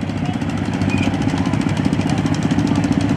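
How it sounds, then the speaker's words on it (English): A John Deere 210 lawn mower engine runs steadily at an antique tractor parade, a loud, close, continuous knocking rumble with rapid even pulses and no pauses. "Here we have a John Deere 210 lawnmower owned by Lance Gunnett out of York, PA"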